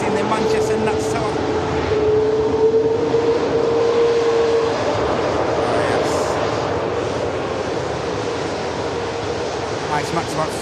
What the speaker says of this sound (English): Max about to touch down